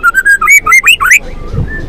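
A white-rumped shama (murai batu) sings up close, a quick loud run of clear whistled and warbling notes lasting about a second before it falls quiet.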